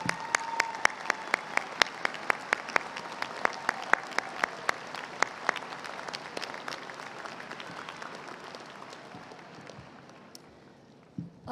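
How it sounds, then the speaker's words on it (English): A large commencement audience applauds at a fall university graduation ceremony. The sound is a broad wash of clapping with sharp individual claps standing out, and it gradually thins and fades toward the end. "Please, all of you stand so we can recognize and applaud all of you."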